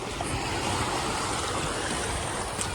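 Ocean water washes steadily along a beach in a broad continuous rush with faint wind noise, fairly quiet and with no one talking.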